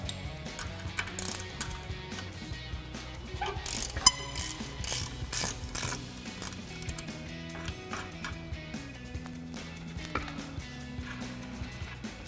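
Steady mechanical clicking of a ratchet spinning off a 17mm nut on a rear shock of a 2016+ Toyota Tacoma, close and continuous with a few sharper knocks, no talking.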